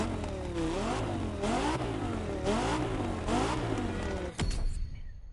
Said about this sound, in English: So like the Lamborghini Huracan sounds like this.